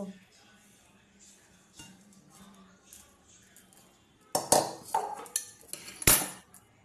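Fried chillies for a chilli pickle are crushed with a rolling pin on a board, starting as faint scraping and then turning into a cluster of sharp, close knocks and crunchy clatters.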